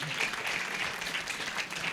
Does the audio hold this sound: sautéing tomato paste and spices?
no